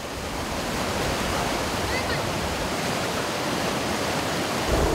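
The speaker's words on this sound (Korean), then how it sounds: "높이의 폭포가 90도 수직으로 암벽을 때리며 떨어지는 모습이 장관이다" Changbai waterfall, a 68-metre fall striking a vertical rock wall, roars as a dense, continuous broadband rush, loud and steady throughout.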